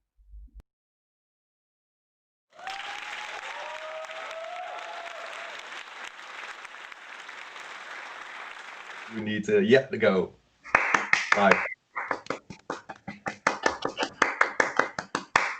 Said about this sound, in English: Can we stop clapping now?